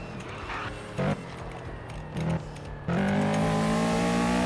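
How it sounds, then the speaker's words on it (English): A tuned Audi S3 in a video game revs hard, heard from a third-person view, with a couple of short throttle bursts before it climbs into a loud, sustained roar. "The car is so loud in third person."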